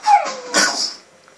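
A pet dog in a Minecraft-style video game lets out a short, close whimpering yip followed by a brighter bark-like cry, both quick and then fading to near silence.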